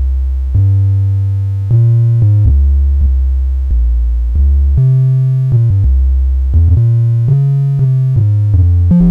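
Heavily distorted, buzzy synth through wave shaper distortion plays a continuous sequence of sustained notes that step between pitches, loud and gritty throughout with no voices.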